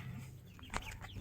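Young backyard chickens give a short, soft cluck nearby, a single brief call over quiet farmyard background.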